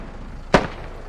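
A single sharp rocket blast in a military shooter game, one brief close burst rising out of low background noise, with no talking.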